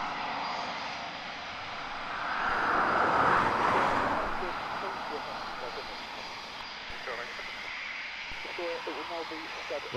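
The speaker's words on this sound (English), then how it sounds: "the Voyager has just gone directly overhead" An RAF Voyager aircraft passes directly overhead at RAF Coningsby, its jet roar swelling to a peak and then fading as it moves away, while people talk in the foreground.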